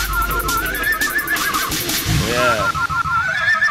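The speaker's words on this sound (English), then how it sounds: "Let's load up some horse." A horse neigh sound effect rises and falls midway through, loud and close among other background sound, with a brief spoken word.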